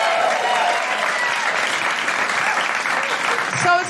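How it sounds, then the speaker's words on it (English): Loud, close audience applause from a live comedy podcast crowd rolls continuously for about four seconds, with faint voices mixed in and a brief bump of sound near the end. "Big round of applause for Olivia and Andrew."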